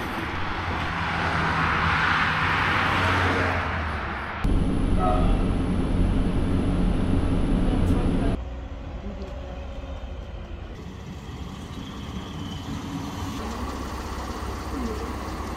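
Inside a moving passenger train, loud continuous rumble and rattling of the carriage with shifting roar, several abrupt changes in level, and faint voices underneath.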